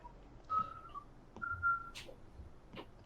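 Someone whistles two short, soft notes nearby, separated by a pause, with faint clicks and small background noises around them.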